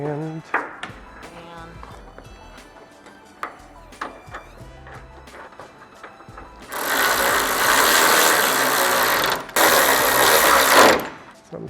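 Hood bolts on a Toyota GR Corolla, being fitted with a Seibon carbon hood, are driven in by a loud whirring power tool in two sustained bursts, following a stretch of quieter background sound.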